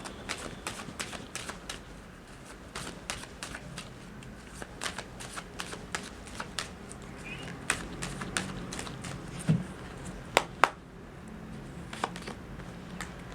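Tarot cards being shuffled by hand, a quick run of crisp riffling flicks and taps repeated over and over, close and moderately quiet, with no talking.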